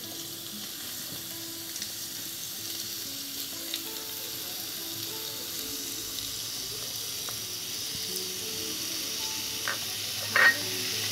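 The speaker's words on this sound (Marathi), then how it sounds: "आपण आता त्यात लसूण घालणार आहोत." Garlic fries in slightly cooled oil for a fresh turmeric pickle. The soft, continuous sizzle hisses evenly throughout at moderate distance, with a faint clink near the end.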